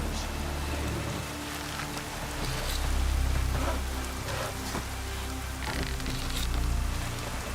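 Rain in The Witcher 3 game, a continuous hiss of falling rain on surfaces with scattered drops and a low rumbling undertone, steady throughout with no voices.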